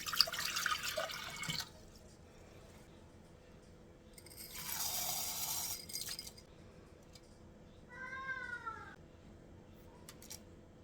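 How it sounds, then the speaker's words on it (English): Elderberry syrup ingredients go into a pot in two splashy pouring bursts separated by quiet, followed by a cat's short meow and a few faint drips. "It really is as simple as just dumping things in the pot."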